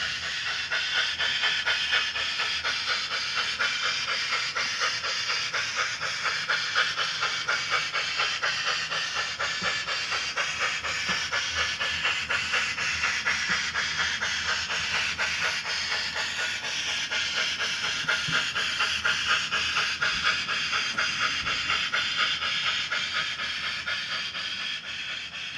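An HO-scale model steam locomotive, number 27, runs along a layout with a steady close hiss and a fast, even chuffing pulse that holds throughout.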